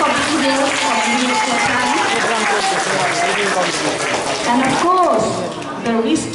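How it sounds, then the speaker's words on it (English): An audience at a school junior reading competition applauds the parents, a sustained dense wash of clapping that holds steady and then thins near the end, with some talk mixed in. "so I think they also deserve a big round of applause for our parents"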